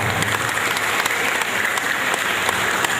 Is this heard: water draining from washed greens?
no